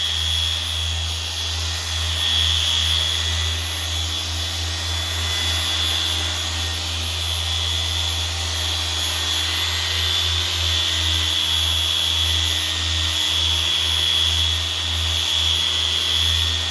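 A dual action polisher buffs car paint with a pad using a broad flat face, giving a steady close motor hum with a whirring drone that runs unbroken throughout and sits alone without talk.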